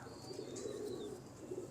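Pigeons cooing in a loft, soft low repeated coos close by, steady and fairly faint, with no talk over them.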